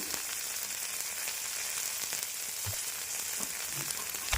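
Chopped methi leaves with a little salt and turmeric sizzle steadily over a low flame in a Punjabi-style yogurt curry, with faint scrapes and taps of stirring through the constant fry.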